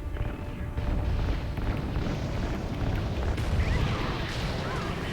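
Fuel lines are shot and explode in Call of Duty: Ghosts, producing a sustained, rumbling blast with roaring low-end and crackling debris that continues at full intensity for several seconds.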